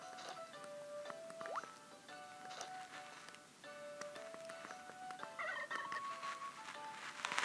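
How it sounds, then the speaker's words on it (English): Chickens cluck and gobble in the farming video game Harvest Moon DS: Tale of Two Towns, with several short, bright, synthetic calls scattered among soft chimes and ticking game effects. "Chicken."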